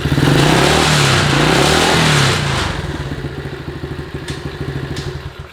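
A small 1974 Honda CT70 motorcycle engine with a quiet exhaust revs loudly, then drops to a quick, even putter at idle, its exhaust note soft and rhythmic.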